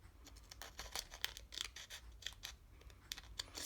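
Small scissors snip a Jamberry nail wrap in half, making a few close, quiet crisp cuts and scratchy rustles, with no voice.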